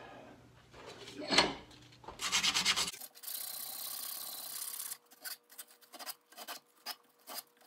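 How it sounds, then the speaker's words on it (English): A wooden sword part is smoothed by hand, giving a burst of rough rasping strokes followed by a long steady scraping pass and then a run of short, separate rubbing strokes, close and moderately loud. "I'm going to smooth it out and see how it fits"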